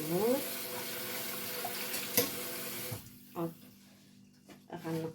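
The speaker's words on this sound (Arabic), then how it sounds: "نغسل الموس." Knife washed under a running kitchen tap: a steady gush of water for about three seconds, then brief splashes and rinsing bursts, faint and close, with a voice speaking.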